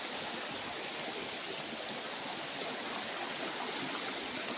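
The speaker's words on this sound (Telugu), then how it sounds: "ఇదిగోండి కాలువ, ఈ కాలువ నుంచి తెచ్చుకుంటారంట మంచినీళ్ళు" Forest stream flowing near a remote settlement, a steady broadband rushing of water, continuous and even, with no voices.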